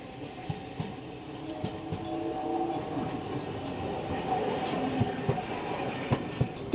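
A street tram in Nagasaki rolls past amid road traffic, with a steady rumble and rhythmic clicks of wheels over rail joints.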